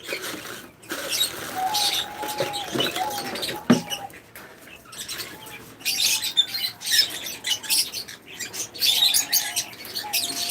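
Many small birds kept on a farm chirp and twitter constantly, a dense, bright layer of overlapping calls near and far with pattering and rustling underneath.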